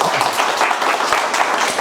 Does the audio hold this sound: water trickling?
no